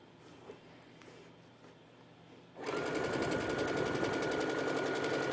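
A sewing machine stitches a backpack side panel into a tube. Soft handling noises come first, then the machine starts halfway through and runs with a loud, steady, rapid hum to the end.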